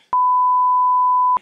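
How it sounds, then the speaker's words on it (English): A single steady electronic censor beep, loud and pure-toned, holding for over a second before cutting off abruptly. "I want to hear beep"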